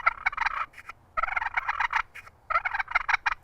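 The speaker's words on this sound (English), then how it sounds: "And the same thing with the push button yelper" Three quick bursts of fluttering, rolling turkey purrs from a push-button call, close by, with short gaps between them and no talking.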